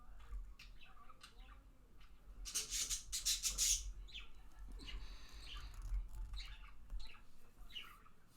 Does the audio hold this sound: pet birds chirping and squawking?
yes